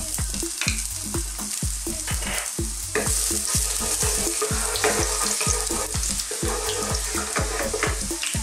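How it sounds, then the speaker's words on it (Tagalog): Garlic hitting hot cooking oil in a wok, a loud, dense sizzle that swells and stays intense, with regular scraping stirs cutting through the hiss. "Sa akin pong wok, mainit na rin po yung mantika. Okay, lagyan po natin yung ating bawang."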